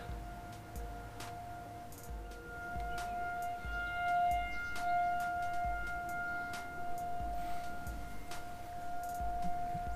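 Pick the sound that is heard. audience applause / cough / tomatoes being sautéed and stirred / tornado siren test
tornado siren test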